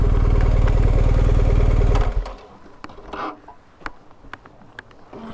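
Motorcycle engine running loud and close for about two seconds, then cutting off abruptly as the bike is parked, followed by faint clicks and clatter in a quiet outdoor setting.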